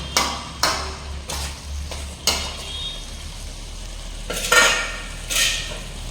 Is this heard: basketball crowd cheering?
no